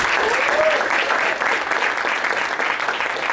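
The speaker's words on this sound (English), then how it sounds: "let's give one more warm round of applause to class" A graduation audience at a UCT class ceremony breaks into warm applause, a continuous thick wash of many hands clapping at close range, with a faint voice briefly audible early on.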